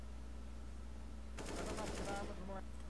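A rapid burst of video game gunfire, an automatic spray lasting about a second over a steady low hum, with faint talk nearby.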